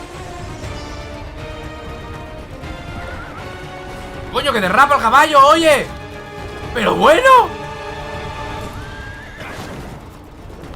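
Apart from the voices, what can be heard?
horse skidding and neighing in a video game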